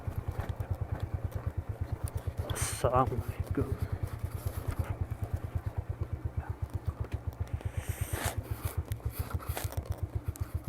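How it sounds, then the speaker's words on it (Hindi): A motorbike idles with a steady low, rapid engine throb while being brought to a stop and parked beside an old mosque in Islamabad, with scraping and clattering, and people talking over it. "यहाँ पे हम कहीं पार्क कर लेते हैं बाइक को"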